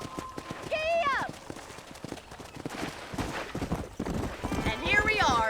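A horse gallops in the Red Dead Redemption video game. The clip-clop of its hoofbeats runs steadily throughout, and short whinny-like calls break in near the start and the end.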